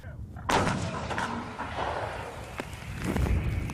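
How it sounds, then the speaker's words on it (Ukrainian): A single heavy large-calibre artillery blast booms out, followed by a long rumbling echo and scattered outdoor noise, with a few fainter distant thuds. "Жартують так потужно стріляють із великого калібру"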